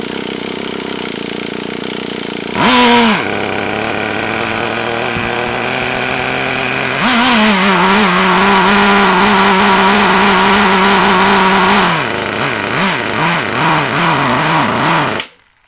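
Nitro engine of a Traxxas T-Maxx RC truck cranked from cold, with a loud starter whine, then sputtering catches into a buzzy, fluctuating idle and revving that surge and dip before cutting out at the end.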